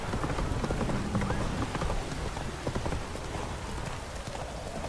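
Hooves of the horse Roach pound in a steady clip-clop gallop in The Witcher 3, a continuous near rhythm over a dense wash of rain-like ambient noise, with no voices.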